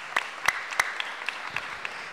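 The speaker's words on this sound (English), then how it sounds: "Would you give him a round of applause, please?" Faint, sparse applause from an audience at a business meeting, a few scattered distinct claps spread across the moment, fairly distant and thin.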